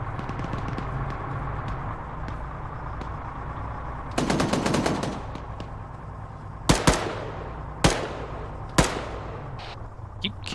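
Gunfire from the military video game ArmA 3 during infantry play: a steady rattle of automatic fire, then a burst and several loud, sharp single shots at spaced intervals, with little talk.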